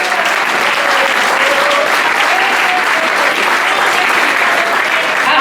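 Dense, sustained clapping from a congregation during a church service, a continuous even wash of applause that is loud and close throughout, with no voices standing out.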